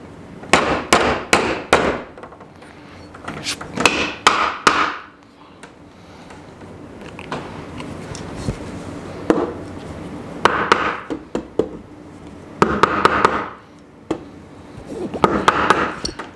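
Nails are hammered into wood while building a deck planter, sharp close hammer strikes in quick rapid bursts separated by pauses, loud and alone without talk.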